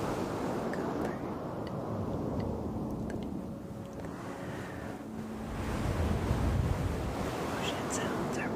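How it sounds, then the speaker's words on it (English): Ocean waves in a steady wash of surf, rising into a louder surge near the end, with some wind noise and a faint voice underneath. "Ocean sounds are one of such sounds for me."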